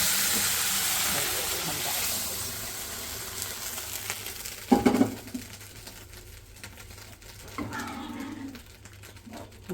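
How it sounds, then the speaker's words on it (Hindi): A hot spiced tempering of oil and masala is poured onto masoor lentil daal, giving a sudden loud sizzling burst that settles into a softer hiss and crackle, close by. "अब हम देंगे इसके ऊपर ये बघार"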